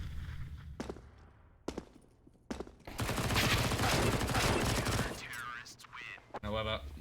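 SMG gunfire in Counter-Strike on the Mirage map, a few sharp isolated shots followed by a sustained, dense burst of rapid fire lasting a couple of seconds, with footsteps and further shots trailing after.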